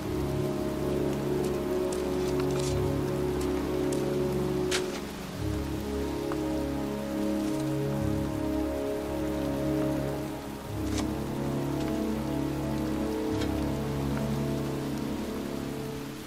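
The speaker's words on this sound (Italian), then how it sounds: "Fa freddo, piove, e io me ne sto qui a inzupparmi." Steady rain falling in the video game Heavy Rain, a loud, continuous hiss of drops hitting surfaces, with occasional sharper splatters and no voices.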